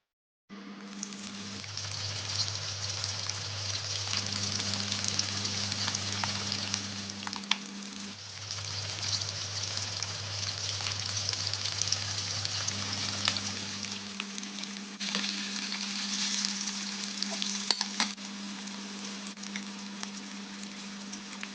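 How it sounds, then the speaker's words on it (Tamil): Chilli bajji fry in hot oil until browned, giving a continuous crackling sizzle with fine popping, steady and close, over a faint low hum and without voices. "இப்படி ஒரு ப்ரௌன் கலர் வர அளவுக்கு பொரித்து எடுக்கும்"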